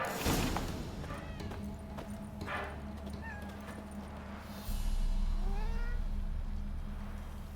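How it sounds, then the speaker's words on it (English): A black cat in The Witcher 3 gives several short meows, some rising, over a low game ambience with faint hoof-like clops and a swell in background drone midway. "And now a black cat."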